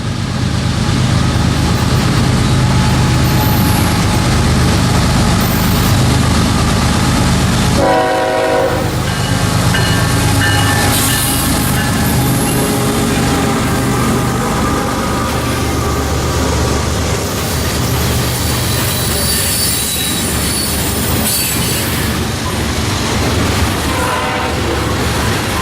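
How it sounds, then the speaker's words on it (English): A train rolls past near a mountain town, a loud continuous rumble and rail clatter filling the whole stretch, with a horn sounding partway through. "oh, train's coming through"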